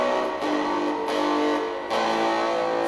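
Electric guitar through a UMI Buzztone fuzz pedal with an expander, a sustained distorted buzzing tone with a few chord changes, loud and alone with no talking.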